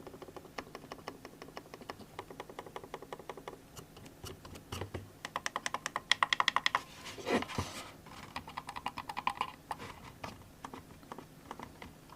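A Logitech Lift ergonomic mouse gives rapid runs of soft, close button clicks, quiet and light, with brief pauses between bursts and no voices.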